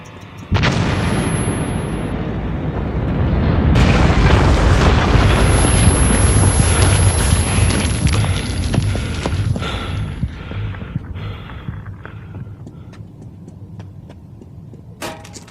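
In the Metro 2033 video game, a tunnel collapse detonates as a loud, roaring explosion that swells into sustained rumbling debris, then slowly trails off into scattered crumbling with no voices.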